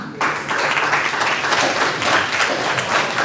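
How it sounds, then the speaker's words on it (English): Loud, sustained applause from the audience at a Biloxi ward candidate forum, starting abruptly and holding as a dense wash of clapping hands from beginning to end. "Round of applause for all of our candidates, ladies and gentlemen."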